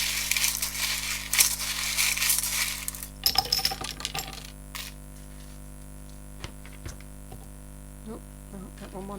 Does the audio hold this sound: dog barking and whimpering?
no